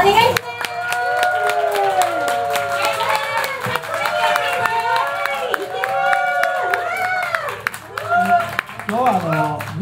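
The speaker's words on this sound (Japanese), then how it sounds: "みんなもっと大きな拍手をよろしくお願いします。" Audience applause at a live event inside a record store, hands clapping steadily while voices talk and call out over it, with several sharp louder claps standing out.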